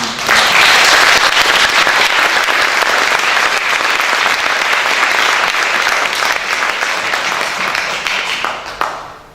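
Warm, sustained applause from a conference audience thanking a guest speaker, dense steady clapping that fills the room for several seconds before tapering off at the end.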